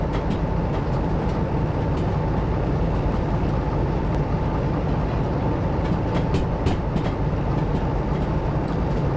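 A heavy freight train in the Derail Valley sim rolls along with a loud, constant rumble and rattle, and irregular clicks of wheels over rail joints are scattered through the steady roar; no talking.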